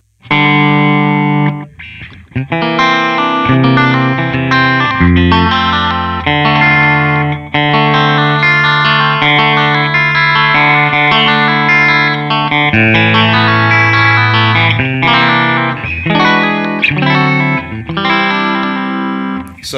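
Electric guitar played through a Line 6 Variax modelling guitar and Line 6 Helix processor, with bends imitating a B-bender, compressed and chorused, with some distortion; loud, continuous melodic phrases with no talking.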